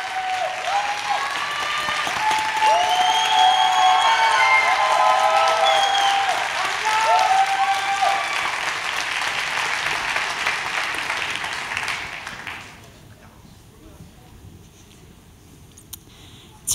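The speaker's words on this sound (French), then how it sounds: "Une bonne main d'applaudissements pour 11 mots" A theatre audience at a regional college talent-show final applauds loudly, with some cheering voices on top, for about twelve seconds before the clapping drops away to a quiet room.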